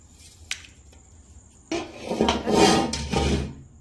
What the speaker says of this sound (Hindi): ये मैं बर्तन धुलने के लिए रख देती हूँ।